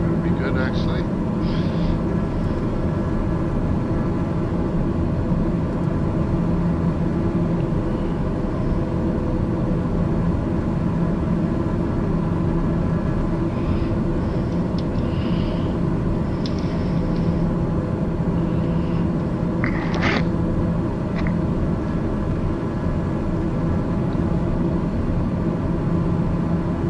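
Steady engine drone from a Daher TBM 930 turboprop descending to land at Cold Bay, Alaska, a constant broadband hum with a few faint clicks and beeps over it.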